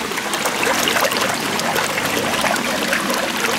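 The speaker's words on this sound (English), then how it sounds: "the pump is circulating this water very, very nicely" Water moved by a filter pump trickles and splashes in a continuous, close, bubbling stream with no talk.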